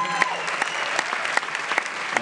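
An audience in Ryerson Auditorium claps at a film festival Q&A, producing dense, even applause from many hands, near and loud throughout.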